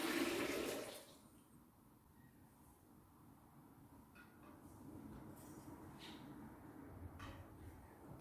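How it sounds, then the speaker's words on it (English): Water runs into a stone baptism font inside a church, a soft continuous pouring rush heard at modest level after a brief louder splash at the start. "here comes the water."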